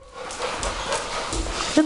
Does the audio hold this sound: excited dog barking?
yes